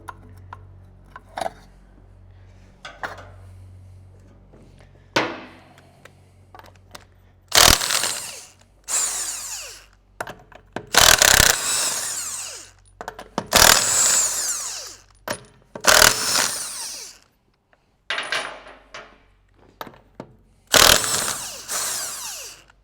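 A power tool works on the back wheel of a Fiat Dino under restoration. Repeated short, loud bursts of whirring and rattling come close by, separated by quiet pauses, with no talk.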